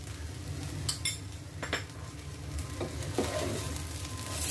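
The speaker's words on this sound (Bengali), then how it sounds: "চালগুলো ভাজা হয়ে যাচ্ছে" Rice fries in a pan with ginger and garlic paste, giving a soft, continuous sizzle under a few sharp clinks of a utensil scraping and stirring, fairly close and moderately loud.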